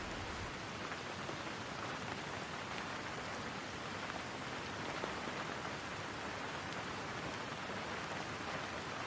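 Continuous rain pours down in Sydney, a loud, unbroken hiss of drops striking the ground and nearby surfaces, constant from start to finish without talk.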